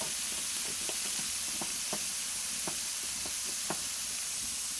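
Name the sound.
ginger paste added to frying snail curry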